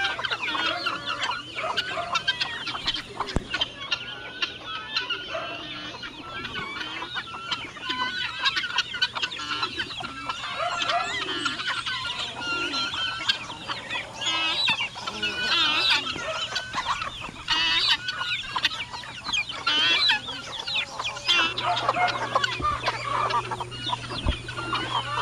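Chickens cluck continuously around a backyard pen where rabbits are kept, many overlapping clucks and squawks near and far, with a low steady hum underneath and no talk.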